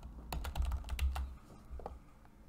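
A burst of rapid key clicks on a computer keyboard while entering a range name in a spreadsheet, about a dozen crisp close taps in quick rhythm, then a lone keystroke after a short pause.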